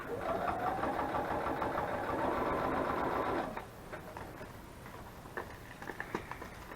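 Sewing machine running a straight stitch on a craft journal page, a fast steady mechanical whirr for about three and a half seconds that then stops, followed by light handling taps and rustles.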